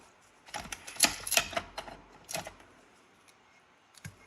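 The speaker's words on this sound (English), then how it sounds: "So I am going to continue taping down this seam." Tape is pulled and pressed along the seam of a sublimation tumbler, producing a cluster of close crinkling, ticking and tearing sounds over about two seconds, then quieter pauses with a final soft tap.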